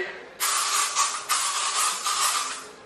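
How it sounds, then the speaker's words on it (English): Aerosol bug spray hissing as a person sprays it onto themselves, a close, loud, steady burst lasting a couple of seconds with a few slight surges and no talking. "I'm gonna spray myself with more bug spray"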